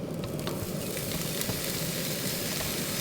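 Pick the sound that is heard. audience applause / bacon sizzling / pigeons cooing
bacon sizzling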